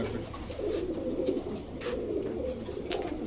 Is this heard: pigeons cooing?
yes